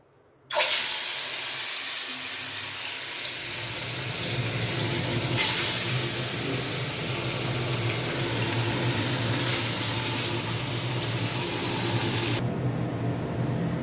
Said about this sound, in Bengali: নুন হলুদ মাখিয়ে রাখার পর আমি মাছটাকে এবার ভেজে নেবো